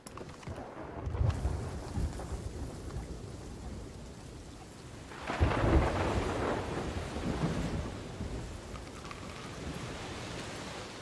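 A thunderstorm at sea in the pirate game Sea of Thieves, with a steady wash of rain and wind broken by a loud, rolling thunderclap midway that slowly fades back into the storm.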